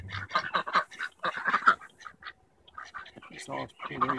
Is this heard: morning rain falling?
no